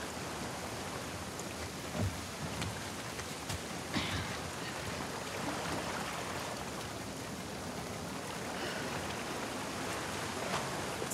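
Steady rain pours down in The Last of Us Part 2, a dense, even hiss of drops on surfaces with faint scattered patters throughout, and no talking.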